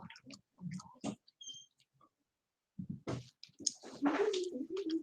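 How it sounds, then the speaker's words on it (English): Close, crisp crunches of crunchy breakfast cereal being chewed come in short irregular bursts, with a brief pause before a denser run of chewing. "Boy, this cereal stayed crunchy a long time."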